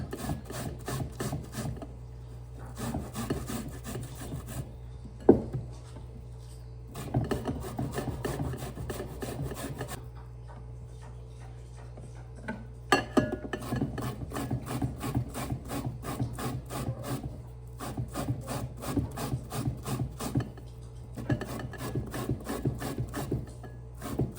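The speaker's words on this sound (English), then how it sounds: "I'm grating 4 bananas to make my coconut dumpling" Four bananas being grated for coconut dumplings, a close, repeated rasping scrape in steady rhythmic strokes that comes in several long bursts separated by short pauses.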